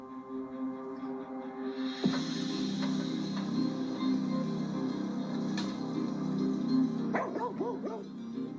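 Dogs barking and yipping, a few sharp barks standing out over a steady background murmur, with a burst of quick yaps near the end.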